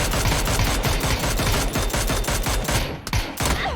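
Rapid automatic gunfire in a shooting video game, dense bursts of loud, close shots fired in quick succession, with a brief pause before the firing resumes.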